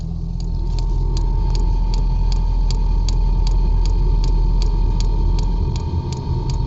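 A 5kW diesel heater, just fired up for the first time in a truck bed, runs with a steady low rumble and a regular ticking pulse, like a fuel pump, throughout, with no talking.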